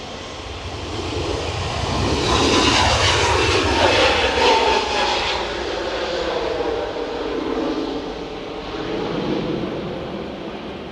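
A Turkish Airlines airliner taking off at Edinburgh Airport on a windy day: a loud, sustained jet engine roar that swells to a peak, then holds a broad rumbling thrust as the plane passes and recedes.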